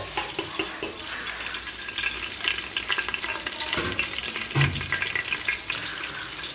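Ghee melts and sizzles in a pan for ghee rice, a steady crackling hiss with a few knocks and clinks of a utensil against metal.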